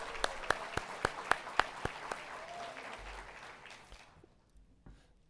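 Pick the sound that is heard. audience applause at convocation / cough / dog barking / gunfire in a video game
audience applause at convocation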